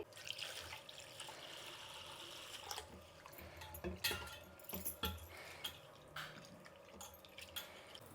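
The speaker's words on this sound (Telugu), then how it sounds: "ఈ అటుకులు కూడా ఒకసారి కడిగేసి నీళ్ళు పోసి పెడతామండి" Rice and poha flakes are washed in water in a kitchen, giving a steady, quiet sloshing and dripping with occasional clinks of grains and a vessel, close by.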